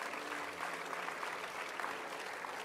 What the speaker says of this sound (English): Give Zaquan a hand